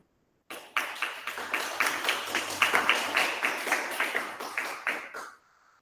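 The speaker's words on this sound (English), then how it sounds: "Let's give him a round of applause." An audience at a student welcome ceremony bursts into applause, a dense run of clapping lasting about five seconds with a few louder individual claps before it quickly fades out.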